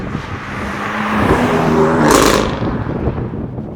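A BMW M4 GTS revs up and roars past, its engine note climbing to a loud, close peak and then receding with a whooshing rush of air.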